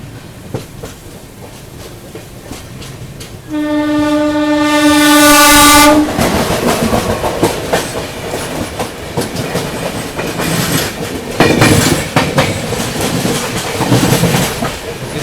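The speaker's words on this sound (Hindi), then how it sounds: "ट्रेन अपनी विजयवाड़ा जंक्शन अराइव कर रही है" A 12622 Tamil Nadu Express train pulls into Vijayawada Junction in monsoon rain, its horn blaring loud and steady for about two seconds over the rolling rumble of the wheels and the rain.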